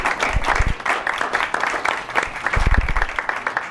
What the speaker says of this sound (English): I want everyone to give you a big round of applause for Emily Terpstra